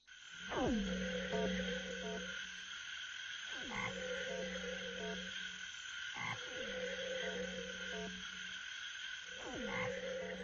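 Frogs croak in repeated bursts about every three seconds, each a deep pulsing call over a steady high insect-like drone in the background.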